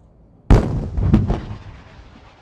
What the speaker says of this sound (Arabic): مشاغلة هدف معادي بواسطة صاروخ موجه مضاد للدروع